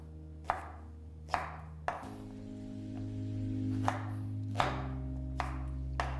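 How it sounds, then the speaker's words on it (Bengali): A knife cuts peeled pointed gourd (potol) into quarters on a board, with about seven sharp, close chops spaced irregularly over a quiet hum. "প্রথমে এইভাবে মাঝখান থেকে কেটে নিয়ে আপনাদের আরেকবার এইভাবে কেটে নিতে হবে"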